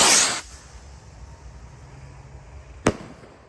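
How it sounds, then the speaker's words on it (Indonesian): A small Gold Dragon Rocket firework launches outdoors with a loud, close whooshing hiss that fades quickly as it climbs. A single sharp pop follows a few seconds later. "Lanjut yang kita nyalakan di sini ada Gold Dragon Rocket. Ini yang ukuran paling kecil guys."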